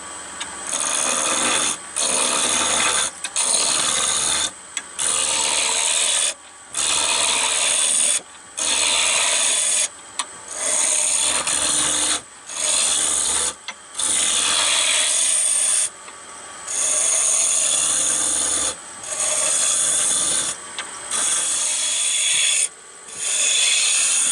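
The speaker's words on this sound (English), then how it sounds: "I'm cutting towards the end of the spindle" Wood lathe with a gouge cutting a goblet with two captive rings toward the spindle end, a steady loud rasping scrape broken by short repeated pauses as the tool lifts off and re-engages.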